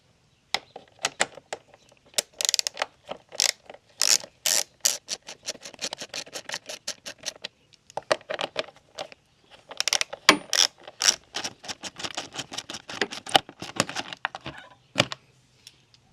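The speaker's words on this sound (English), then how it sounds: "we're going to use I think it's a 10mm socket to remove these two bolts" A 10mm socket ratchet clicks away in rapid runs while bolts come off the air box of a Toyota Camry Hybrid, a steady metallic ticking with a short pause midway before it resumes.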